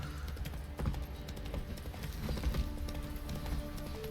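Hooves of Geralt's horse Roach clopping at a steady gait in The Witcher 3, a rhythmic thudding beat under swampy ambient music, moderately loud and close.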